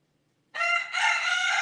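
A rooster crows once, close and loud, a sustained cock-a-doodle-doo that bursts in after a moment of near silence and carries to the end.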